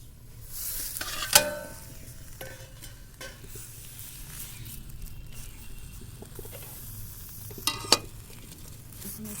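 A pea-leaf and prawn patori cooking in a kadai gives a soft, steady sizzle with occasional scraping and a couple of sharp clinks of utensils against the pan.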